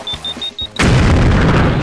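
A kamikaze explosion in BlackLight Retribution: a quick series of high electronic beeps ticking down, then a sudden loud, close blast whose rumbling roar fills the rest of the moment.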